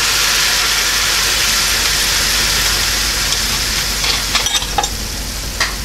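Coca-Cola poured into a pan of browning onions meant for hotdogs, burgers and brats, setting off a loud, dense, continuous sizzle up close with a few brief crackles near the end.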